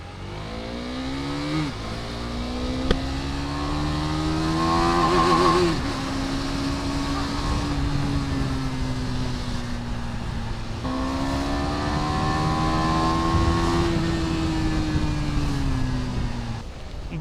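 Motorcycle speeding downhill from Sinhagad Fort, its engine droning loud and close with rising and falling revs and wind rush, no talk.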